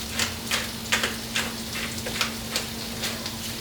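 Onions sautéing in a pan for refried beans, giving a constant close sizzle with rhythmic stirring scrapes every half second or so, alone without talk.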